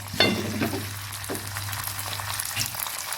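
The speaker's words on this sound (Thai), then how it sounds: "จะเริ่มใส่ไข่แล้วนะจ๊ะ" Eggs hit a hot pan of browned garlic for egg fried rice, bursting into a sharp sizzle that settles into a steady frying crackle.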